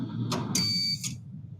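A single electronic beep from a rolled ice cream machine's defrost pedal, a short chirp followed by a longer steady tone, fairly close against a low background hum.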